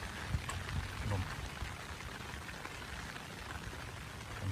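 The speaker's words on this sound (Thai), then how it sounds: "บรรยากาศฝนตกครับ" Rain falling during a storm over rice paddies, a dense, steady hiss of drops on surfaces with gusty wind swells, moderately loud and continuous throughout.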